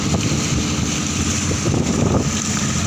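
Strong wind buffets the microphone over rough, heavy waves around a dive boat at sea in bad weather, a loud, steady roar with surging wash underneath and no pauses.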